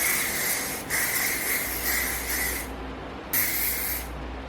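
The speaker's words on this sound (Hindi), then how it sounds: "सो या यू नीड हेयर सेटिंग या hair holding spray, hair style holding spray" A hair styling holding spray sprays onto hair in two long, close bursts of airy hiss, separated by a short pause. No one speaks.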